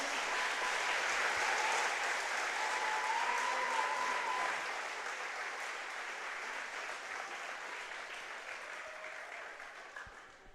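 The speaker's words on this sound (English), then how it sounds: "Let's give one more round of applause for all of our seniors." Sustained, loud applause from a crowd in a school gym at a fall sports senior night, steady clapping that slowly fades toward the end with no voices over it.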